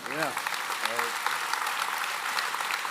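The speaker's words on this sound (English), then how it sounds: "can we clap it up for Cal Ripken one time" A crowd applauds for Cal Ripken, a dense, continuous patter of clapping heard after a brief spoken voice at the start.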